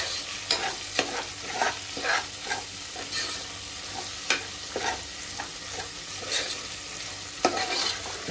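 Onion and tomato frying in a pan while a spatula stirs them, giving steady sizzling with repeated scraping strokes roughly every half second, close and moderately loud, with no talking.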